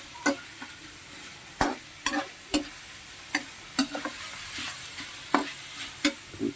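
Pancit bato noodles are stirred in a hot frying pan. Sharp spatula scrapes and clacks strike at irregular intervals over a steady sizzle, close and fairly loud, with no talking.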